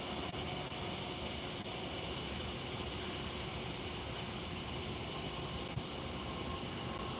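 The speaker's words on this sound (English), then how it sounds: "The long night train." A long freight train rolls past at night on a BNSF/Norfolk Southern line, a steady broadband rumble of wheels and cars holding at even loudness throughout with no break.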